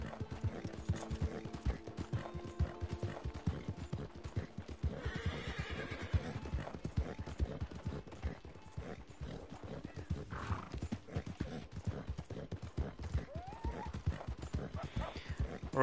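Horse hooves galloping in Red Dead Redemption 2 Online: a fast, even clip-clop close up that runs throughout, with a brief whinny partway through and faint mechanical clicks behind it.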